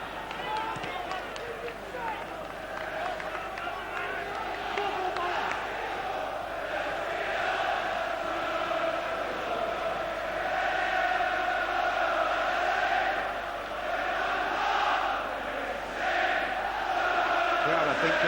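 Football supporters at Liverpool's Anfield stadium chant and sing en masse during a night match against Roma, a sustained, loud roar of voices swelling and falling, with a commentator speaking over it.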